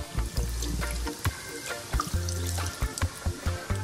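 Bud Light beer is poured over catfish fillets in a container, a soft, continuous splashing trickle with faint clinks, close and quiet, with no talking.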